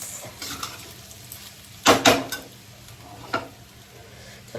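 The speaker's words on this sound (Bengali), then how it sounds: "ফ্রাইড রাইসটা ঢেলে রাখি" Fried rice is scraped and poured out of a pan in a home kitchen, with soft stirring rustles and a few sharp metallic clinks of a spoon against the pan.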